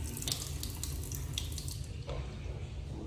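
Tap water runs steadily into a sink during handwashing at home, a continuous close splashing stream with faint dripping and no talk.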